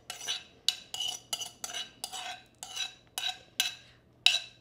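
A spoon scraping and stirring potato, courgette and tomato through fried onions in a pan, about ten evenly spaced scraping strokes, fairly quiet and close.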